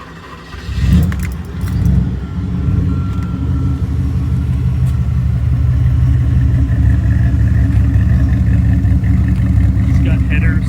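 A 1986 Porsche 928S engine with headers and a 3-inch exhaust cranks and catches around the one-second mark, then settles into a steady, deep, rumbling idle that continues to the end, with a faint jingle of keys.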